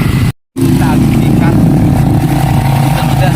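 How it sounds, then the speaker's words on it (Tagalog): A motorcycle ride with the engine droning steadily and loudly close by, broken by one brief dropout, while people talk over it. "Sakay ko siyang motor. So, mag-motor dahil ni Tomach."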